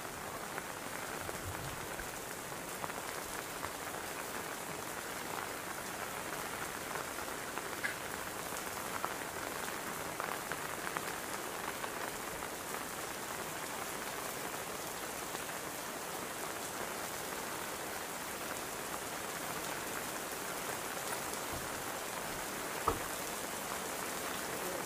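Heavy rain pours steadily after Christmas celebrations, a dense, even hiss of drops on surfaces that holds at a constant level throughout, with no voices.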